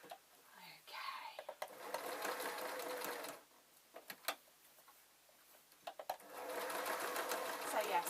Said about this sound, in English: I'm going to carry on sewing